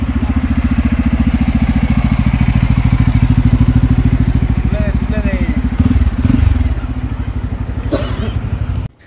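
Idling motorcycle engine, one of four bikes on a Sunday group ride including a Pulsar N250, KTM Duke 250 and Royal Enfields, runs with a steady, close, loud throb that stops abruptly near the end.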